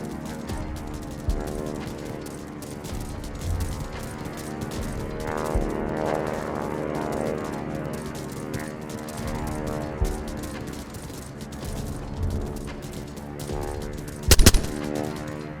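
A mounted machine gun in the game Kujlevka fires among a droning mechanical background, with scattered sharp bangs and a loud burst near the end.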